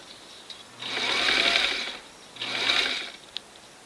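A sewing machine stitches piping onto a bench cushion in two bursts of rapid, close mechanical whirring, each about a second long, with a quiet pause and a small click between them.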